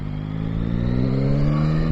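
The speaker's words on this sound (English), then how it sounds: "It's lovely sound. A triple always is a lovely sound." Yamaha Tracer 9GT motorcycle with a 900cc three-cylinder engine, a steady close engine drone with strong low harmonics that swells slightly as the revs build, running alone without voices.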